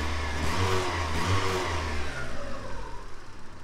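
Mazda Miata engine given a single quick rev while parked, a close, loud rising and falling blip of the motor that settles back toward idle, with no talk.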